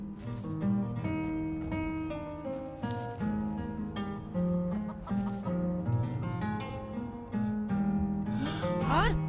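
Chickens clucking and bawking in the village of the fantasy video game Fable, repeated short clucks over soft background music, with a rising squawk near the end.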